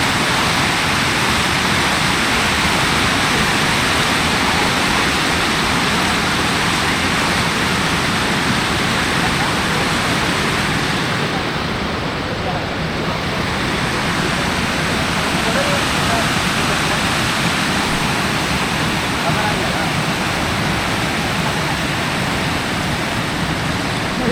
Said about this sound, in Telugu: ఇక్కడ వాటర్ అంతా కూడా కిందకి వెళ్తున్నాయి